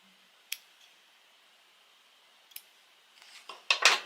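Scissors cutting thread during hand and machine stitching on a primitive art project, giving a few sharp isolated snips early on and then a faster cluster of louder snipping clicks near the end, close and alone.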